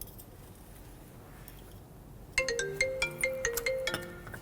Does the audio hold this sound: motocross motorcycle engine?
no